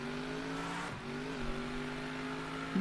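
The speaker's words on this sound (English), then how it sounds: "Go, you glorious truck, go." A toy truck's engine revs in the Table Top Racing video game, a buzzy, harmonic whine that dips briefly, then climbs again with a short squeal at the end.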